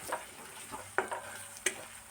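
Onion paste masala fries quietly in a pan under a soft, faint sizzle, broken by three short scraping strokes as it is stirred.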